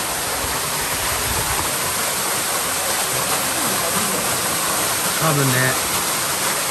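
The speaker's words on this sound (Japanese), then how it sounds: "いやー、素晴らしい滝です。" A waterfall on Mount Mitake roars in a steady, loud, full-bodied rush close by, with a voice speaking briefly over the water near the end.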